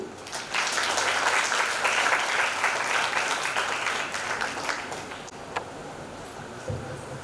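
At a writers' festival, an audience applauds to welcome a speaker, a loud, dense burst of many hands that rises quickly, holds for several seconds, then thins out into scattered claps and room noise.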